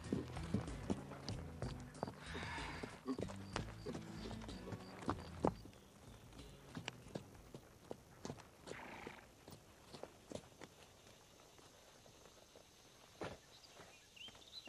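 A racehorse in training gives irregular hoof thuds and clip-clops at moderate distance, with a faint neigh-like cry, fading to scattered quieter steps.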